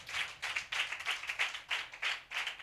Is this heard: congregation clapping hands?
yes